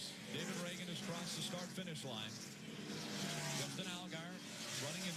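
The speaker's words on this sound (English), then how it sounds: "There you see Kimmel on that Ford number 44. He is flying." Ford race car number 44 racing laps in a championship event, its engine whining and sweeping in pitch as cars pass, steady and loud throughout with commentators talking over it.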